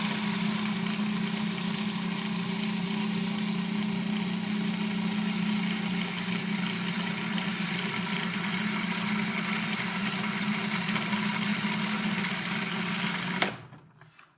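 A food processor runs continuously, grinding toasted pine nuts while good-quality olive oil is added, giving a steady close motor whir that cuts off abruptly at the end; no one talks.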